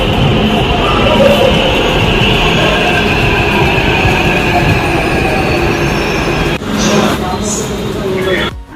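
A Hyderabad metro train runs with a continuous loud rumble and rolling rail noise, briefly dipping and shifting near the end as the carriage moves along the track.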